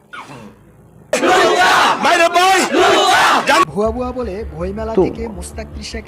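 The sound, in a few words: crowd shouting slogans at a book fair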